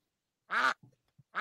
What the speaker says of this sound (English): Who's quacking?